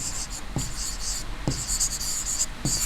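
Chalk writing a diagram on a classroom board, scratchy strokes in bursts with a few sharp taps as the chalk strikes the surface, close and clear with no talking.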